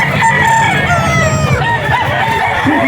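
A yellow-legged rooster crows loudly and close at a pet market, one drawn-out call filling the moment with no talk over it.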